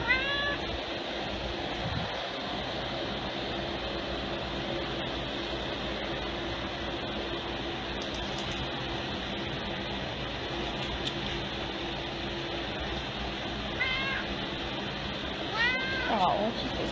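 A cat meows a few times, faint and scattered, over a constant fan-like hum, with a louder meow near the end.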